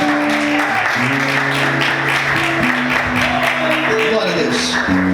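A church congregation claps in praise during a sermon, the applause mixed with sustained keyboard or organ chords and voices rising over it.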